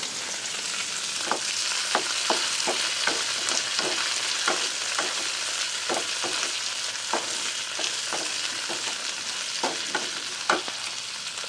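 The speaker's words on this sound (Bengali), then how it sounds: "এদিকে তো শাক ভাজা হচ্ছে দেখো" Greens frying in a pan after onion was browned, a steady loud sizzle with sharp stirring clicks recurring throughout, no talking.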